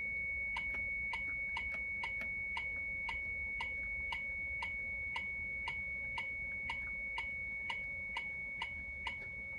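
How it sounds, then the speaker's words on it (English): A steady series of short, evenly spaced electronic keypress beeps from an Atari 800 computer repeats about twice per second over a faint background hum. "every time you hit a key, it does beep"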